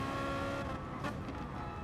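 A BMW race car engine revving hard at Brands Hatch GP in a racing game, a loud continuous high-pitched drone that holds steady with a brief dip near the middle, with no voices over it.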